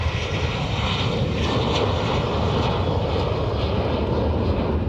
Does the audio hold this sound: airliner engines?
yes